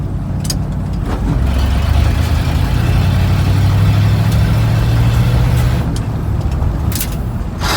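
An old project truck without power steering pulls away in second gear, its engine droning loudly and steadily with a rising low growl, punctuated by a few sharp clicks and knocks.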